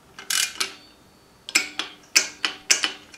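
Coolant pipe bolts on a Subaru EJ25 engine are tightened with a ratchet: a short burst of clicks, a pause, then five or six sharp metallic ratcheting strokes in a quick rhythm, close and loud against a quiet background.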